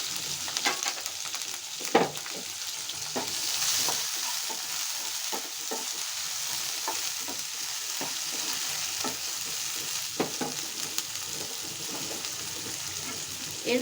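Green and dried chilies with chopped onion and garlic frying in a pan, a steady sizzle broken by repeated scrapes and stirring clatters, close and continuous with no talking.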